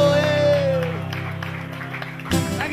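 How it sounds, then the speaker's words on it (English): Live audience clapping after a folk song, a soft dense patter of applause that rises into a louder burst near the end, with a voice talking over it. "She's very good with the clapping."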